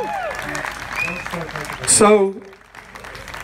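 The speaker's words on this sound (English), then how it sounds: "how about a round of applause for our police, who we need to respect and support every day of the week?" Audience applause for the police at a dove release ceremony, a brief burst of clapping mixed under someone speaking, fading out after a couple of seconds.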